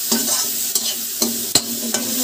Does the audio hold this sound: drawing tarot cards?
no